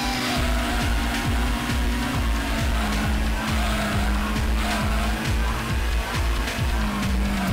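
Race car engine from Gran Turismo played on a PlayStation through an RG350 handheld, a loud continuous high-revving whine with rhythmic rev drops as gears shift, heard alone throughout.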